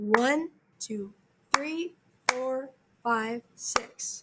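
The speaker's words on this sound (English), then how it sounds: "When you say it and clap it, it sounds like this." Sharp single hand claps mark a six-eight rhythm for an orchestra lesson, crisp and close, landing between the syllables of a voice counting aloud from one to six.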